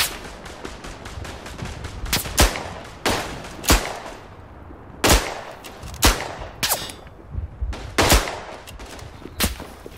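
Gunfire in the World War I shooter Verdun: sharp rifle shots crack at irregular intervals over a constant rumble of distant battle, some shots loud and close, others farther off.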